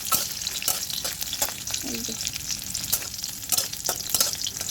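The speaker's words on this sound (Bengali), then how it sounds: "মাছের তেল করার জন্য এখানে রসুন আর হচ্ছে লঙ্কা ভেজে নিচ্ছি আগে" Garlic and chili fry in hot oil for a fish curry, a steady close crackling sizzle with scraping stir strokes of a spatula throughout, and a brief murmured voice.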